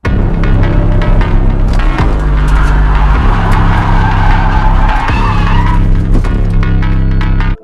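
A BMW E46 drift car slides sideways in third gear, its engine droning loud and steady with harmonic bands while tires squeal continuously up close, with brief dips where the throttle shifts.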